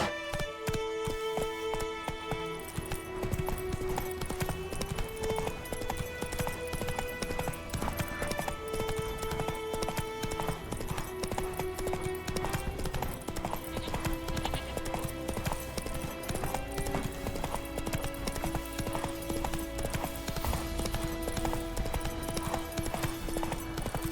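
Roach the horse from The Witcher 3 trots along, hooves clip-clopping in a steady, even rhythm beneath continuous orchestral game music, with a faint whinny.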